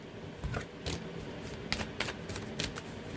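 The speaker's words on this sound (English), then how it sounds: "I want to make sure I'm shuffling good." Tarot cards are shuffled by hand in a run of quick riffling, papery flicks and soft slaps, close and fairly steady for a few seconds, with no talking.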